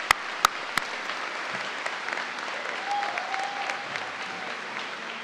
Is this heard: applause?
yes